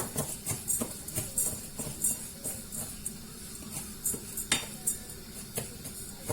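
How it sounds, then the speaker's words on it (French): Spoon stirring seasoned rice with spices in a metal pot or bowl, a close run of light rhythmic scrapes and clinks repeating every half second or so, quiet, with no talking. "Je mélange bien."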